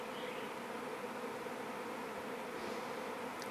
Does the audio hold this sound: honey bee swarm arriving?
yes